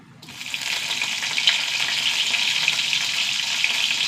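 Mustard seeds crackling in hot coconut oil as a Kerala tempering for a curry, a steady dense sizzle that swells quickly and holds loud and close with small pops scattered through it.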